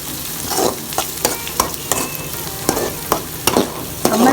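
A spoon stirs a turmeric mixture in a frying pan for mor kuzhambu, making repeated sharp scraping clacks at an uneven rhythm over a soft sizzle, close and clear, with no talking.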